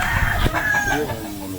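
A rooster crows once, a rising then falling call heard over background chatter and farmyard noise.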